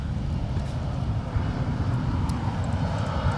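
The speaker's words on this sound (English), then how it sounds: "That was SkyWest 6248 coming in from Seattle with an Embraer" A SkyWest Embraer E175 airliner landing at LAX makes a steady, broad jet engine roar that stays fairly loud and even throughout, with no talking.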